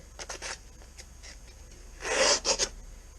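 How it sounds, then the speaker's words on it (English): Sandpaper is drawn through the crimped electrodes of a spot welder while restoring the boot floor of a classic Mini: short, close rasping strokes, a few quick light ones, then a louder, longer scrape. "just take a piece of sandpaper, crimp it in there, and then just draw the sandpaper through 5 or 6 times"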